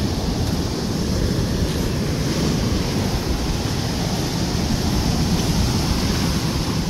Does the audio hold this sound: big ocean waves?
yes